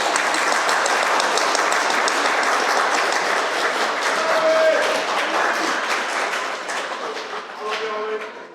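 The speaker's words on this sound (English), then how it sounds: "give a warm round of applause to welcome Maulana for his closing remarks" A graduation crowd at RISE Academy's 2024 12th grade ceremony gives a warm round of applause welcoming Maulana for closing remarks, sustained clapping that slowly fades near the end.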